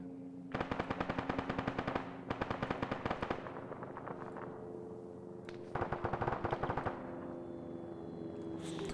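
Bursts of M16 rifle fire from an Arma 3 combat match crackle in rapid automatic strings, three long volleys separated by brief pauses, fairly quiet overall, with no talking.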